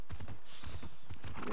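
Horses' hooves clip-clopping in The Last of Us Part 2, a close uneven run of hoof strikes with a short whinny near the end.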